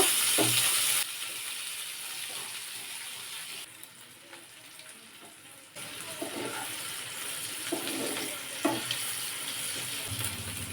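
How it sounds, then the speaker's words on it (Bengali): Chopped onion and tomato fry in a pan for chicken dal, giving a steady hiss with a few soft stirring knocks. The sound is moderately close, with no speech. "পেঁয়াজটা লাল লাল করে ভেজে নিয়েছি"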